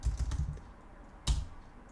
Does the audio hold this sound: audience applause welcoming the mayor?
no